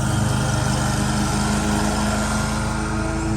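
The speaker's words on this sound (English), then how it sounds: "So this one, we're just mowing and spraying." Lawn mower cutting crabgrass-covered turf, a steady, loud engine drone with a low rhythmic pulse holding constant throughout, no talk.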